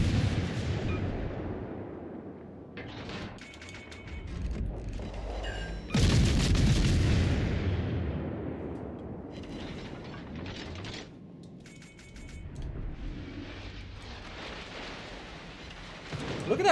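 Warship shells firing in World of Warships Legends, with several heavy booming salvos that crash in loudly and then rumble and decay, leaving a dense roar of naval battle between the blasts.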